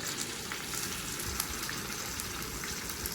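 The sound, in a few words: garlic, green chillies and cumin frying in hot oil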